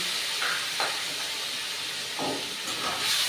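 Hot water hits hot oil with cumin paste in a pan for a rohu fish curry with potato and eggplant, producing a loud continuous hiss and steamy sputtering close by.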